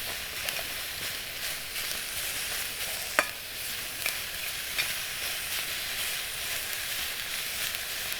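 Frying food over a campfire, a steady sizzle holding at an even level through the whole stretch, with one brief sharp click near the middle and faint scattered crackles.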